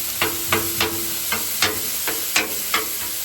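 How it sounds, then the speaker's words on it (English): Thawed vegetables, garden snap peas and broccoli with eggs and pork, gently fry in a pan on lower heat, a steady soft sizzle broken by a regular run of light stirring clicks, close and alone. "So a lower heat will kind of just help it gently fry and do its thing."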